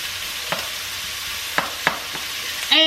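Fried cabbage and sausage cook in a pan with butter and rendered fat, a steady soft sizzle carrying a few short stirring scrapes, close and with no talk.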